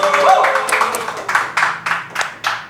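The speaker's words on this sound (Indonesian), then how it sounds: "Tepuk tangan buat Rambo Banten." A small podcast studio audience gives a brief round of scattered hand claps for a guest from Banten, with individual claps distinct, alongside speech.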